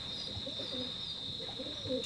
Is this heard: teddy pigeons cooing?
yes